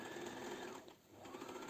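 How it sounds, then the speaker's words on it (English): A sewing machine runs a zigzag stitch along the fabric edges of a cap sleeve with a continuous, fast mechanical whir, close and steady, with a brief dip near the middle. "I've used the sewing machine zigzag stitch."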